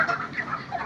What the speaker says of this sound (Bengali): আমার এই মুরগি